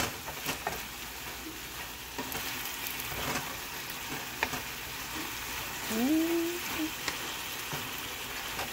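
Tomato salsa cooks in a pan with a soft, continuous sizzle and occasional faint stirring clicks, and a short whistle-like tone rises briefly over the low steady hiss.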